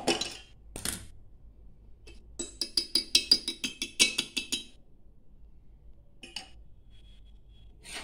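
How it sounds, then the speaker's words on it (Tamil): Spoon stirring rice flour batter in a bowl for sweet seedai, a quick run of about a dozen bright metallic clinks and taps against the bowl, close and distinct, with a few stray knocks before and after and no talk. "இப்போ இது நம்ம மிக்ஸ் பண்ணுறது பார்த்தீங்கன்னா இந்த கரண்டியோட பின் பகுதி இருக்குது பார்த்தீங்களா, இந்த சைடு தான் கலக்கணும்."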